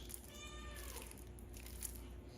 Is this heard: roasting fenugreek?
no